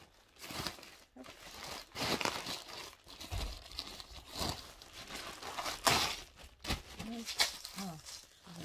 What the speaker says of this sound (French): Ah, je vais déballer.